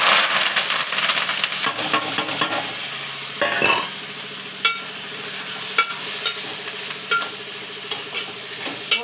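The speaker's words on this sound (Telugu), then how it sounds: "ఉల్లిపాయలు టమాటా వేసేసుకుందామమ్మ." Chopped onions and tomatoes hit a hot pan and sizzle loudly and steadily, with stirring scrapes and occasional sharp crackles over nine seconds, no talking.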